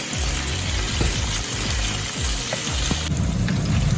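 Potatoes frying in a pan, a constant bright sizzle close by with soft low knocks from the pan, and no voices.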